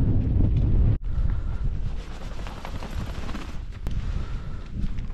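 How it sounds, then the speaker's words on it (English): Strong, gusty wind buffets the microphone on a cold Scottish mountain top, a loud low rumble that briefly drops out and then continues in uneven surges. "it's really cold and windy"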